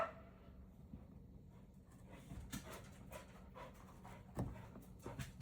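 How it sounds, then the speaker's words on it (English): Dogs pant quickly and rhythmically nearby, with soft thumps and scuffs of movement, fairly quiet overall. "Hear them coming in here panting."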